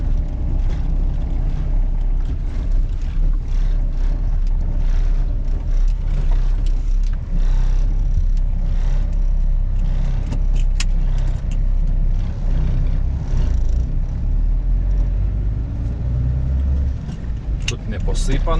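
Tires of a vehicle roll over a slippery winter road in a steady, loud rumble of engine and road noise, with a voice talking over it throughout.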